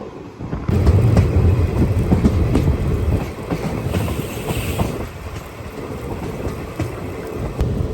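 The Chennai–Visakhapatnam Weekly Superfast Express runs on the rails toward Sullurupeta in Andhra Pradesh, a loud, steady rumble with continuous wheel rattle and clatter close by, with no voices.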